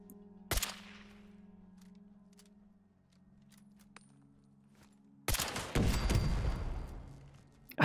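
Gunfire aimed at eyebots in the video game Fallout 76: a sharp single shot early on, then a loud burst of rapid fire near the end over a low humming game ambience.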